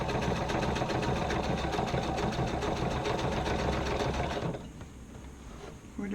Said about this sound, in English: I'm now using my triple stitch.